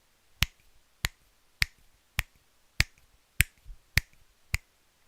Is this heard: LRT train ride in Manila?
no